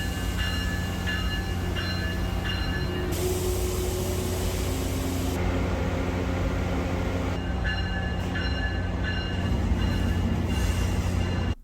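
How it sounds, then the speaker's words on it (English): A pair of Amtrak P-42 diesel locomotives from Ivy City Yard being swapped onto a train in place of an ACS-64, giving a loud, steady rail-yard rumble with humming engine tones and bursts of hissing air, with no talking. "a pair of P-42 diesel locomotives arrived from Ivy City Yard to replace our ACS-64, and soon the locomotive transfer was underway"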